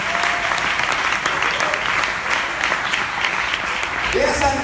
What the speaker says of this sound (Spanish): ¿Cuánto le dan palmas de alabanza al Dios de los poderes?